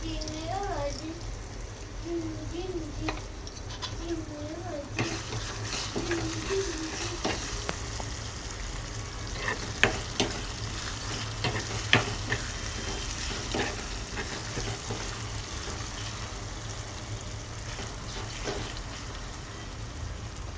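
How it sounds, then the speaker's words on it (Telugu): Tomatoes with turmeric fry in a pan with a steady, close sizzle and occasional scraping stirs, while a voice talks during the first few seconds. "ఇలా టమాటాలు ఫ్రై అయ్యాక అయితే ఇందులో కొంచెం పసుపు అయితే వేసేసుకున్నాం"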